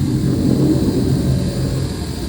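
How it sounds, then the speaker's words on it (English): A jet aircraft passes overhead, a steady, broad low roar that swells slightly and then slowly eases off, heard alone with no talk. "a jet's going by"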